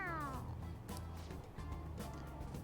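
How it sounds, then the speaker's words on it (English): A stuffed toy cat meowing when pressed on the head in the video game Persona 5, a short falling meow at the start followed by softer sounds, quiet with faint background music. "It meows when you press on its head."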